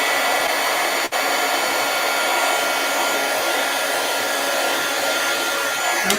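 Heat embossing tool blowing steadily over a stamped card, a constant close whooshing roar with one brief dip near the start, no talking.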